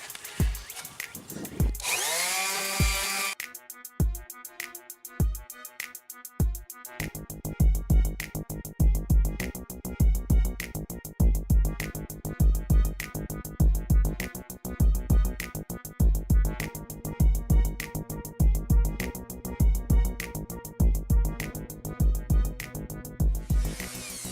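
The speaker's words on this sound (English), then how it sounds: "I'll sand it all the way down and get rid of all the rust out of that spot" A loud power sander grinds against a rusty car fender in long, steady passes with rhythmic pulsing, close up, with a brief pause and restart early on.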